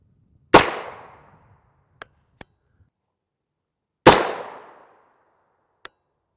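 Two sharp, loud gunshots fired into a Bulletproof Zone ProtectVest NIJ Level IIIA body armor panel, each with a brief ringing decay, a few seconds apart, followed by small metallic clicks.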